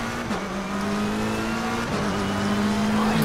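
Several race car engines roar together at a rolling start in Assetto Corsa Competizione, steady loud droning revs with shifting pitches and a brief gear change, no talk.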